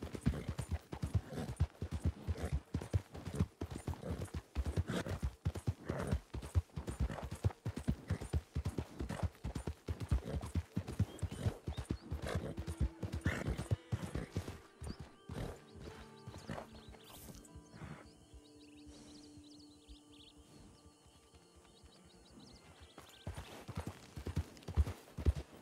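Horse hooves clip-clop steadily in a Western roleplay video game, dense and rhythmic through most of the stretch, easing off and turning sparser toward the end, with no voices over them.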